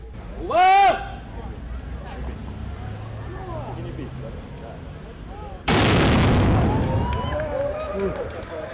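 A loud, sustained burst of ceremonial Cossack salute gunfire erupts partway through, booming over crowd noise and a brief whistle-like tone earlier.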